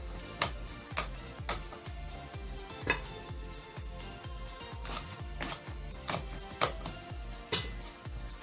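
A knife chops through hot peppers on a cutting board in a steady series of sharp, knocking strikes, each cut a distinct close thud, with no talking.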